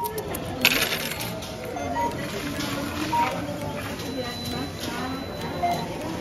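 Coins drop and clink at a supermarket checkout in Japan as cash is paid, several brief metallic taps amid store bustle, with a person talking throughout.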